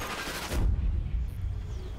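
A burst of gunfire in the World War II shooter Sniper Elite 3, a sharp crack followed by a heavy low rumble and reverberating tail, with no talking over it.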